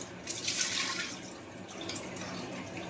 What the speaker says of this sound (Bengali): মাছটাকে ভালো করে ধুয়ে নেবো।